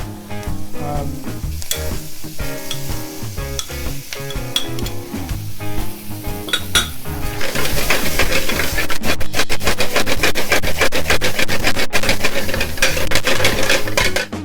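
Potatoes stirred with spices in a hot pan for restaurant-style Bombay potatoes: a loud, continuous sizzle and scraping that grows denser partway through, with some background sound mixed in.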